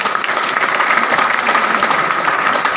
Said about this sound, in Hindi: एक बार तालियां चाहूंगा सर के लिए।